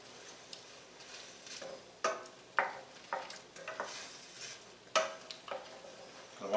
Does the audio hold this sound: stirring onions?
yes